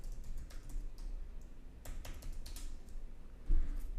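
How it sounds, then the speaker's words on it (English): A password is typed on a computer keyboard in a quick run of close, crisp key clicks with short pauses between bursts and a heavier thump near the end. "It's gonna ask for my password. I'll type that in."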